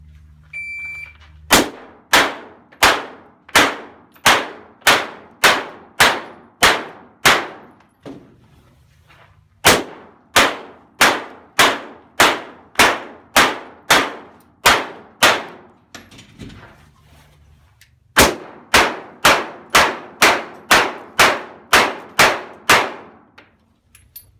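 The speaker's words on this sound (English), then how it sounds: "If you were counting, that was the same amount of shots." Gunshots from rounds fired out of magazines, three evenly paced strings of sharp, loud reports, each string separated by a brief pause for reloading.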